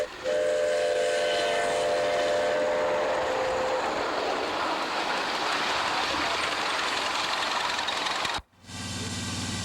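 A small railroad engine pulling a train on track, recorded close and loud: a continuous rumbling roar with a whistle-like tone early on, then an abrupt break and a different steady hum at the end.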